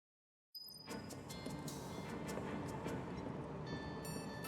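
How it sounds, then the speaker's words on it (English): Rumbling, clattering train in the video game Final Fantasy VII Remake, starting suddenly after a moment of silence and then rolling on steadily and loudly with faint metallic clicks. "Cloud, The train will be passing an ID checkpoint shortly."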